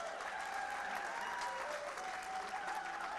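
A crowd at an evening home show gives quiet, steady applause, distant and soft, with a faint tonal hum underneath.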